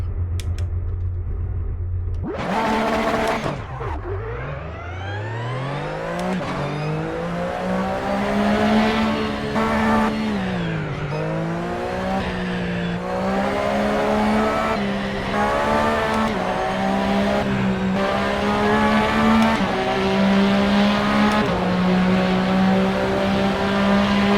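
A race car engine drones through a lap in a sim racing game, revving up after a sharp start and then holding a steady tone with repeated rises and dips as it shifts and brakes, loud and continuous.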